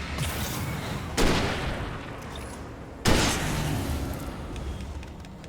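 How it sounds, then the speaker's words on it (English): Two heavy hunting rifle shots in the video game Alan Wake Remastered, each a sharp boom with a rolling tail, a couple of seconds apart over steady background ambience. "The hunting rifle is decidedly insanely powerful"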